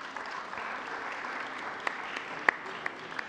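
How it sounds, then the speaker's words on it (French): Applause in a plenary assembly session, a steady wash of many hands clapping at moderate distance, with a few sharper individual claps standing out, and no talk. "On peut l'applaudir, bien sûr."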